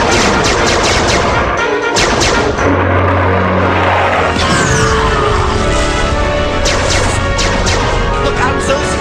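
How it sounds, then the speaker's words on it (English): A cartoon sound effect of incoming laser missiles: dense, loud barrages of explosive blasts and crashing impacts with whooshing streaks, continuous and chaotic throughout. "Look out, Zeus! Incoming missiles!"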